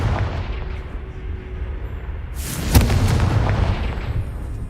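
Confringo fire spell detonates in the video game Hogwarts Legacy: a steady low rumble of ambience gives way to a sudden loud blast with a sharp crack, followed by a lingering roar.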